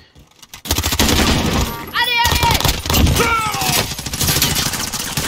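Dense, loud gunfire rattles almost without pause in Call of Duty Warzone, with whizzing ricochet-like streaks over it and a voice briefly mixed in.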